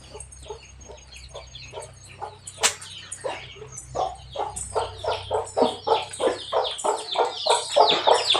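Several chickens cluck and squawk at a home where cement work is under way, the calls coming in a quick irregular stream that builds louder and denser toward the end, with one sharp high squawk partway through.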